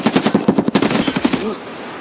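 Rapid automatic gunfire in Escape From Tarkov, a burst of about a dozen sharp, evenly spaced shots at close range. It ends abruptly after roughly one and a half seconds, leaving a faint trailing tone.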